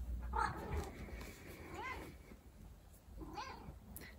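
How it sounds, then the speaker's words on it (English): A pet cat meows twice, close by, each call a short rising-and-falling cry, over quiet room noise with a soft thump near the start. "My cat friend is here to join us."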